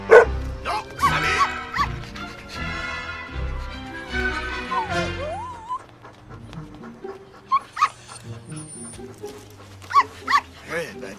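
A dog barks and yips in several sharp bursts near a roadside scene, mixed with whimpering, while people talk over and between the barks.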